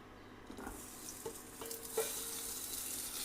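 Vegetables tipped together into hot oil in a pan sizzle and fry steadily, with a few stirring scrapes and clinks rising above the hiss. No one speaks.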